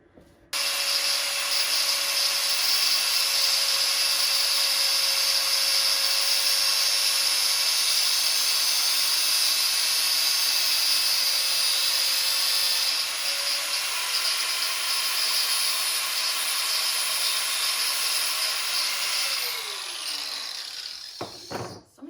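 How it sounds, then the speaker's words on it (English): An angle grinder cuts through a small metal part on a cadet kart engine during a budget build, a loud, sustained high whine that holds steady for about twenty seconds before winding down at the end. "angle grind is more fun"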